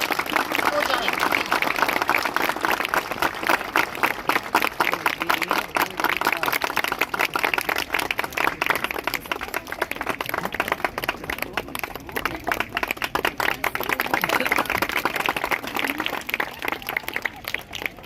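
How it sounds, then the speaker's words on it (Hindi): Loud, sustained applause from a large audience at an International Day of Persons with Disabilities ceremony during the lamp-lighting, dense rapid clapping continuing throughout with a faint murmur of crowd noise. "कृपया जोरदार तालियां हो जाएं।"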